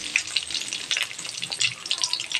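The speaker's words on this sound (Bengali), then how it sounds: "দেখো তেলটা গরম হয়ে গেছে। শুকনো লঙ্কা আর তেজপাতা দিয়ে দিলাম," Dried red chillies, bay leaves and panch phoron fry in hot oil, a steady bright crackling sizzle with small popping spits throughout, close and moderately loud.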